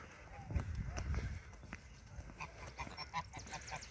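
Two parent geese honking in an open park green, calls coming in short bursts over a steady background hum, with people talking nearby.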